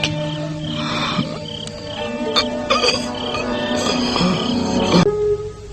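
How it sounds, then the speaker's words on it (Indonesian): Night insects and frogs chirp and croak together in a dense, continuous outdoor chorus, with steady high trills and a few sharper calls standing out over the background. "Serangga malam bernyanyi menembus keheningan."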